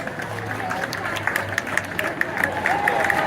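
A baseball crowd at a Somerset Patriots Father's Day game applauds the ceremonial first pitches, a moderate scattered clapping from the stands with murmuring and a brief tonal whistle.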